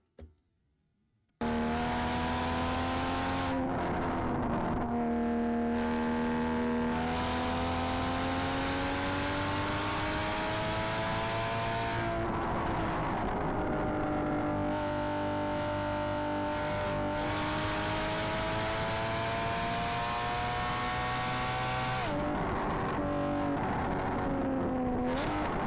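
A car driving hard on a race track, its engine droning loudly and steadily with rising and falling revs through the gears, close and continuous with no talking.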